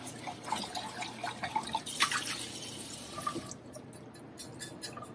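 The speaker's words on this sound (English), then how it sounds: "We also just need to go ahead and rinse our pitcher, pouring out any extra milk." Water runs and drips while an espresso milk pitcher is rinsed out, leftover milk poured away; steady splashing and trickling at close range, fading to softer drips near the end, with no talking.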